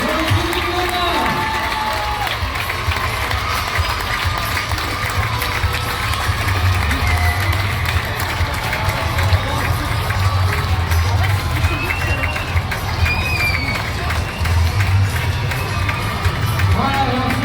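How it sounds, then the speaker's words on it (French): Crowd cheering and applauding at an Olympic flame relay in Cambrai, a dense outdoor roar of clapping and shouting that holds steady throughout, with occasional children's cries and whistles rising above it. "Mesdames, messieurs, sur les applaudissements du public"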